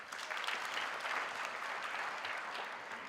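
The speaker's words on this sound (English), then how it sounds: "Can we give them a round of applause?" Steady applause from a crowd at a university graduation ceremony, dense clapping that holds at an even level throughout without pause.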